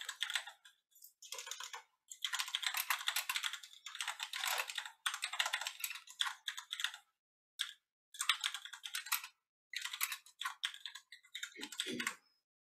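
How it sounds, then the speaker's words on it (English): Typing on a computer keyboard comes in close, crisp bursts of rapid key clicks, separated by short pauses, with no talk over it. "Here, I'll just type this out."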